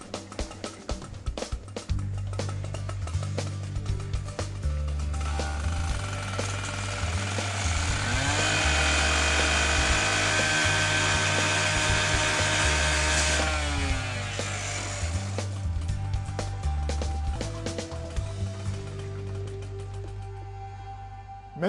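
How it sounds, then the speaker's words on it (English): A forcible entry saw slices through the steel bracket of a roll-down gate, its engine holding a loud, steady high-revving whine while the blade grinds into the metal, rising and then easing off near the end. "just run our saw down the bracket to remove the pin"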